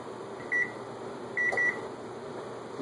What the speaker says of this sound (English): let me go ahead and set the timer for 12 minutes